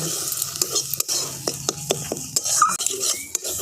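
Spice masala for a tangra fish curry with chili powder is stirred and sautéed in a pan, with a spatula scraping and tapping against metal in uneven strokes over a soft, continuous sizzle of frying oil.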